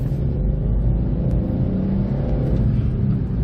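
A small 2023 Kia Picanto with a 5-speed manual gearbox accelerating hard, its engine droning in a steady, loud rising rumble from inside the cabin, with no talk over it.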